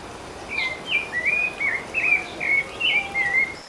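Brazilian songbird singing from a fence post or rooftop, a series of clear, high whistled phrases repeating steadily over several seconds, fairly close and alone against faint background insect hiss.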